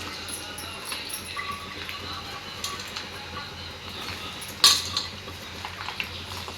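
Spoon scraping and clinking in a pan while stirring mustard seeds and garlic for Telangana-style mango pickle, steady faint metallic scraping with one sharper clank near the end.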